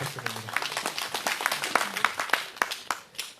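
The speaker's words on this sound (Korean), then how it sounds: "다시 한번 큰 박수 부탁드립니다" Audience applause at an outdoor Wednesday protest rally in Soseong-ri, a modest crowd clapping in quick irregular bursts for a few seconds, fairly close and moderately loud.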